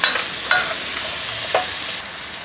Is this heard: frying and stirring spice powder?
yes